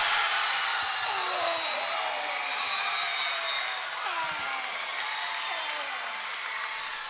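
A loud gym crowd at a boys' district high school basketball game between Monroe and Kamiak roars and cheers after a long three-point shot, with shrill whoops and whistles rising over a sustained roar that fades slightly toward the end.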